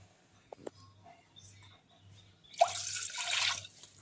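Water poured from a tumbler into a pot while making masala tea: a faint drip and splash near the start, then a short, louder burst of pouring and splashing toward the end over a quiet background.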